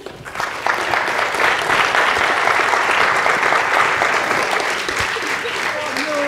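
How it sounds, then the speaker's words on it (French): After a public lecture on dark energy, the audience breaks into sustained applause that swells quickly and holds at a steady, full level, with a voice speaking briefly over the clapping. "Merci beaucoup. On applaudit Pauline"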